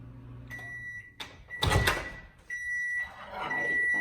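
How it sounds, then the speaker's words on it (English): A powerful microwave oven running with a steady electrical hum, interrupted by door and handling clunks in the middle before the drone resumes. "in my microwave, it's a pretty powerful microwave"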